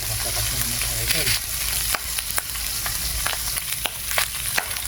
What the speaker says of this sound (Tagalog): naririnig yung putok-putok na yung ating kawali